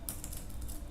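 Quick, light tapping on a computer keyboard, a short burst of several soft keystrokes in a quiet room.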